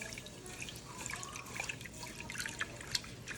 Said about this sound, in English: I just stir it up with my hand